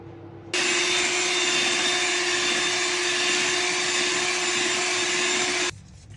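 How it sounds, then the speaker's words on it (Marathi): A kitchen mixer grinder whirs at high speed grinding biscuits and butter into cake batter, one steady, loud, continuous burst for about five seconds, then stops abruptly. "आता याला मिक्सरवरती फिरवून घेऊया"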